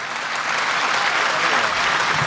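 Audience at a patriotic poetry recital applauds for soldiers, a steady, dense wash of clapping that holds loud and even throughout without breaks.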